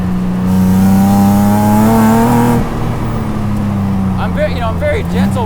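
V6-swapped Exocet accelerating hard, the engine revving up loudly with rising pitch over wind and tire roar, then easing off as the revs settle; a voice exclaims near the end.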